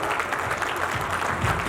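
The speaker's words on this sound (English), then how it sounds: "Please give a big round of applause for all these people" An audience at a training event applauds the DNA team with a sustained round of clapping, dense and fairly even for the whole short stretch.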